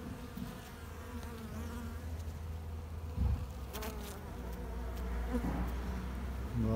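Pure Carniolan honey bees buzzing steadily around an overwintered breeding hive in Gebze, a dense continuous drone close by with no voices.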